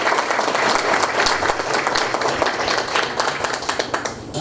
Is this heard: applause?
yes